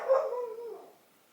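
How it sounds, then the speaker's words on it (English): One drawn-out bark or yelp from a pet dog, close and fairly loud, sliding down in pitch and fading over about a second with no talking. "That was my dog."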